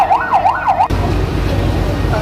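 A wailing emergency siren from a fire engine rises and falls in quick repeated sweeps for just under a second, then cuts off abruptly, leaving loud low traffic rumble.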